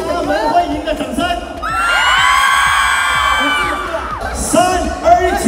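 Excited audience cheering and whooping at a New Year party game swells into a sustained loud roar of voices, with scattered shouts and talk before and after the peak.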